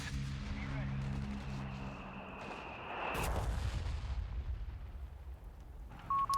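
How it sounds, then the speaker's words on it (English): Strafing run in Company of Heroes 3 during a 2v2 match, a loud sustained roar of gunfire and blasts building to a heavy burst midway, with battle noise continuing after and a short tone near the end. "Okay, another strafe coming through."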